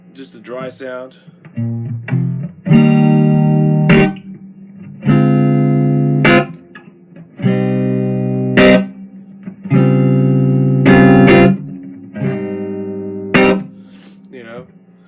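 Steel guitar through a Shobud amp with reverb switched off, loud dry sustained chords in a few distinct phrases with short, abrupt stops and short gaps between them.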